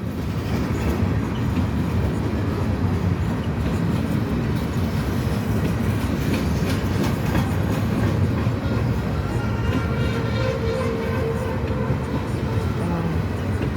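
A train rolls past close by with a steady, loud rumble and rhythmic clickety-clack of wheels on the rails, continuing unbroken throughout.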